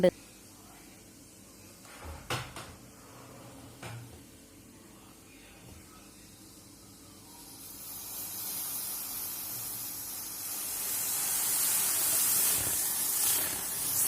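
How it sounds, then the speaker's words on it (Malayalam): Milk boiling up in a pan on a stove while making coffee, a soft hiss that swells into a steady, close bubbling rush through the second half, with a few small knocks early on. "നമ്മുടെ പാലിവിടെ നല്ലതുപോലെ തിളച്ച് പൊന്തി ഇങ്ങനെ വരുന്നുണ്ട്"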